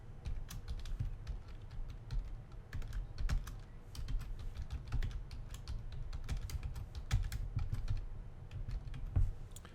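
Typing on a computer keyboard while entering text into a PowerPoint text box, with a close, steady patter of key clicks in uneven bursts and no talking.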